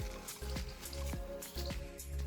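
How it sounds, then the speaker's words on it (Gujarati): Water is poured onto the soil around a freshly planted sapling, giving quiet, soft splashes and wet squishing at a few irregular intervals, close by against a low, steady background hum. "થોડુંક પાણી નાખવું છે હવે જમીન આપણે થોડીક પાણી પીવે"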